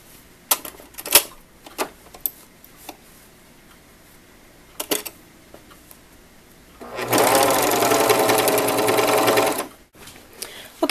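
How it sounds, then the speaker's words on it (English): A serger overlocks the seams of a boys' or men's nylon swimsuit in one steady, loud mechanical whir lasting about two and a half seconds. A few scattered handling clicks and taps come before it. "you place the right sides together and we serge the seams"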